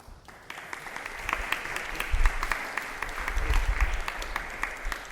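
Audience applause for the instrumentalists after a tabla and harmonium performance at a birthday celebration, a soft wash of many hands clapping that swells gradually, with some sharper individual claps standing out.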